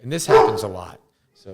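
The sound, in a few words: dog barking in a studio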